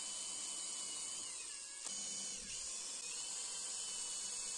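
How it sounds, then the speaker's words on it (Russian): A power drill bores screw holes into a piece of rotten oak with a steady, high, close whine. The whine stays unbroken except for one brief dip in pitch partway through. "сейчас посверлю отверстие под будущие саморезы"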